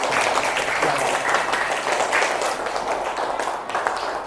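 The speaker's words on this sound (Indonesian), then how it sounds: "Tepuk tangan buat kelompok." Classroom applause from fourth-grade students for a group after a science presentation, a steady dense patter of many hands lasting several seconds with some voices mixed in.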